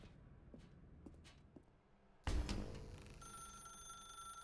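A telephone in The Stanley Parable goes off with a sudden loud onset partway through, followed by a sustained electronic ringing tone over a quiet room ambience with a few soft taps beforehand.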